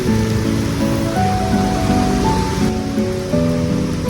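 Heavy morning rain pours down as a loud, steady, dense hiss with no breaks, while faint sustained musical tones run underneath.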